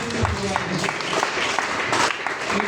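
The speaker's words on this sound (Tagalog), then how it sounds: "Palakpak sa akin." Applause from a church congregation during a sermon, steady mid-level clapping from many hands filling the room for a few seconds, with faint voices mixed in.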